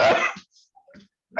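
A single sharp, loud sneeze picked up close to a microphone during an online public planning meeting. It fades within half a second, followed by a few faint, scattered small noises.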